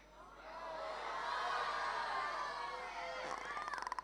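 An audience screams a loud group answer of yes or no, the mass of voices swelling, holding, then breaking into rhythmic pulses as it fades.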